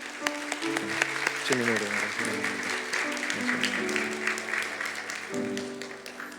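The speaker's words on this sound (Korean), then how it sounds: "잠깐 우리 일어나시면 한번 박수로 환영하겠습니다" A church congregation in Orange County applauds to welcome a visiting elder, with steady, dense clapping throughout and a voice speaking over it.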